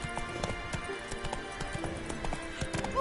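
Roach, the horse in The Witcher 3 video game, gallops with quick, rhythmic, close hoofbeats that run steadily throughout the short stretch, with faint game sounds in the background.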